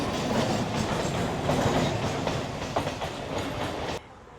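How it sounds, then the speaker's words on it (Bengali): A Kolkata suburban train rumbles past close by, steady clattering of wheels on rails filling the sound, then cutting off abruptly near the end. "এই যে ট্রেনটি এটি কিন্তু যাচ্ছে পাথিপুকুর হয়ে দমদম"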